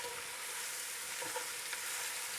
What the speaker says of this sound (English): now we add the peppers, again roughly chopped